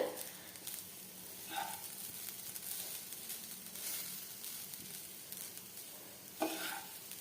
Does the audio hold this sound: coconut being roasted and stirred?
yes